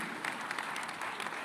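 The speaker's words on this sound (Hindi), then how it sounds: "एक बार सब जोरदार तालियां दोनों हाथ उठाकर इन सब के लिए बजा दी" Dense, steady applause from a large audience at a Ramayana film promotional event, continuous clapping filling the room without pause.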